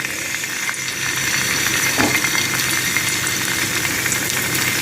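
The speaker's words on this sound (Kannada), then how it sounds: "ಈಗ ಎಣ್ಣೆ ಒಳ್ಳೆ ಬಿಸಿ ಆಗಲಿ ಬಿಸಿ ಆದ ಮೇಲೆ ಸಣ್ಣಗೆ ಕಟ್ಟು ಮಾಡಿಟ್ಟ ಶುಂಠಿ" Finely chopped ginger and garlic fry in very hot oil with a loud, continuous, hissing sizzle that stays steady throughout, close up and alone.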